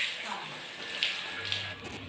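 Warm water runs steadily from a tap in a village setting while a buffalo is being washed, a constant soft rushing flow throughout, moderately quiet, with a faint voice and a couple of small knocks in the background.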